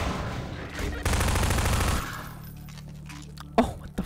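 Rapid automatic fire from a pulse rifle in a video game, a dense loud burst lasting about a second, then quieter sparse shots and a sharp blast near the end.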